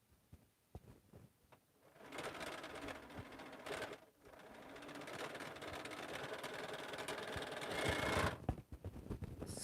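A sewing machine runs steadily, stitching a quilt seam in one continuous whirring run broken by a short pause, preceded by soft clicks and handling noises.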